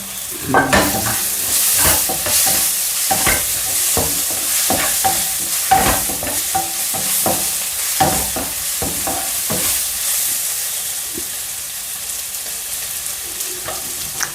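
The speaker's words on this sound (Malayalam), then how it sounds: "ഇവിടെ നമുക്ക് ഒരു മുട്ടയൊക്കെ പൊരിക്കാമല്ലോ" An egg frying in a non-stick pan: a loud, close, continuous hiss and crackle of sizzling oil, broken by repeated sharp scraping taps of a spatula against the pan surface.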